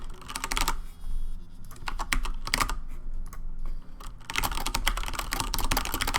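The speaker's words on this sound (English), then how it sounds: "Are you typing?" Close computer keyboard typing, with rapid bursts of clicking keystrokes broken by a short pause, then resuming densely; no talking.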